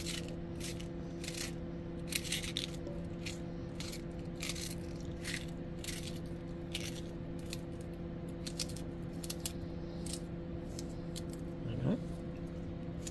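A knife slicing cabbage into thin shreds for thiéré, repeated crisp cuts in an uneven rhythm over a steady background hum, close and fairly quiet.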